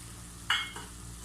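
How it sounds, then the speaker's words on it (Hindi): Boneless beef frying in cooking oil for a chili beef dish, a soft sizzle with one sharp burst of hiss as it is stirred, then settling back to a quiet low crackle. "और उसे कुकिंग ऑयल में फ्राई कर लूँगी"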